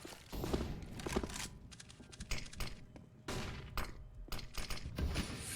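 Gunfire in Counter-Strike: Global Offensive during a G2 Esports versus Fnatic semifinal on the Train map, with dense, rapid clicky shots and bursts layered over busy in-game noise, no talking.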